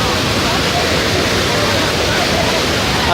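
Cachoeira Roncador waterfall, with people bathing nearby: a dense, unbroken roar of falling water, loud and close throughout the short stretch.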